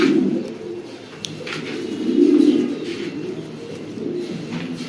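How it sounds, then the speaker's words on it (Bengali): Low, throaty stone-eyed pigeons cooing continuously nearby on a pigeon farm, swelling louder for a moment, with a few faint chirps above. "পাথর চোখের কবুতর ভাই"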